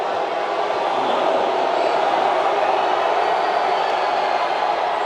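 A basketball crowd at an ABL game between CLS Knights Indonesia and Hong Kong Eastern roars in a loud, sustained wash of noise during free throws, steady throughout with no clear individual voices.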